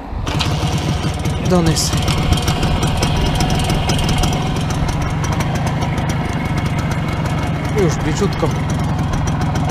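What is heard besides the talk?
WSK 125 motorcycle engine running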